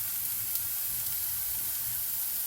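Onions sautéing in a pan with ginger-garlic paste just added, a soft steady sizzle and faint hiss that holds evenly throughout, close and quiet, with no voices.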